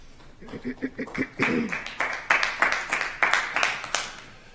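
An audience at a city council meeting claps, first in a few scattered hand claps and then in a fuller burst of applause that rises and falls in loudness.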